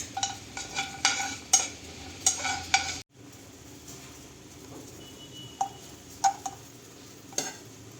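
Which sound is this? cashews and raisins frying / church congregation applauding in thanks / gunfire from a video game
cashews and raisins frying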